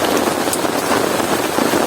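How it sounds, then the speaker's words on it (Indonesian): Heavy rain pounds steadily on a tent during a camp in stormy weather, a dense, continuous hiss and patter close around the listener with no voices. "Kali ini penyebabnya karena hujan yang sangat deras."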